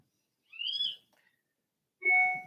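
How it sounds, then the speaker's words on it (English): A bird outside gives two loud harsh screaming calls, one short cry in the first second and another about a second and a half later, with silence between them. "If you hear this like screaming bird noise, it's this stupid dog bird outside"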